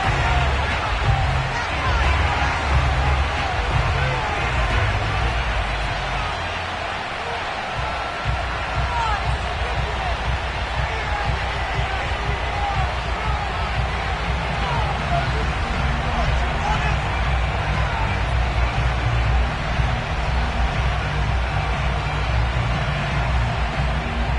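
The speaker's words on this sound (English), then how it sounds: "They love their football in this part of the country, and this crowd is ready to go" A large football stadium crowd at FedEx Field sends up a continuous, dense roar of cheering and babble throughout. A commentator's voice runs over it.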